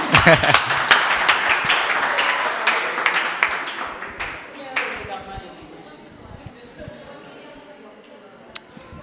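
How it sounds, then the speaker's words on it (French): Audience applause at a French-language talk, loud and dense at first with many hands clapping, then thinning out over several seconds into scattered claps and room noise. "On applaudit."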